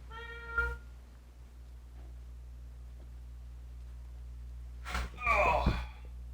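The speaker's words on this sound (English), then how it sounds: "Jinx is loud. She's a loud fucking cat." Jinx the cat lets out two meows, a short tonal one near the start and a louder, longer cry near the end, with near silence between them.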